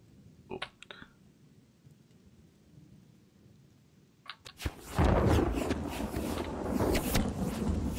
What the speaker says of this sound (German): Unwetter.